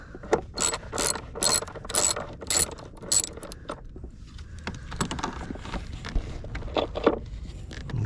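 Hand-turned long bolt on a 2015 Mercedes-Benz C300 during a roadside battery change, giving a run of quick ratchet-like clicks and metallic ticking in short repeated bursts, then looser scattered clicks and handling noise, close and moderately loud.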